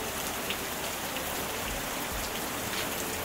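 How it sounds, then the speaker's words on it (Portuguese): Rain falls steadily on a window, a dense, even hiss of countless drops with occasional slightly sharper taps, continuous and moderately soft with no voices. "O som da chuva na minha janela é como um manto que me protege e me acalma."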